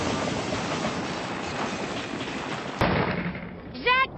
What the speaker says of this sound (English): it's up to Batman and Robin to stop an 11:30 train from rolling over a bridge